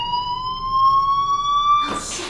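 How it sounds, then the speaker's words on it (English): A fire alarm in the video game Life Is Strange sounds as a loud, steady electronic tone held for nearly two seconds before breaking into a brief burst of noise. "Hey, do you hear that fire alarm?"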